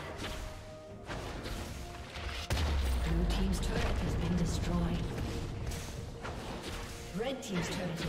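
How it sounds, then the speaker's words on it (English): A turret collapses in League of Legends with a loud crashing boom that sets in about a third of the way through and keeps rumbling heavily until the end, over quieter game sounds and a voice. "Team's turret has been destroyed."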